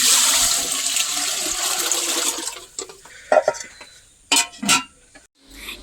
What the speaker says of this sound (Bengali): এবার হাঁড়িতে চালের জন্য জলটা দিয়ে দে।